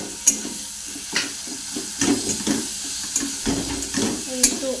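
Onions frying lightly in a pan, with a soft sizzle broken by several sharp scrapes and clinks from stirring, heard close and moderately loud.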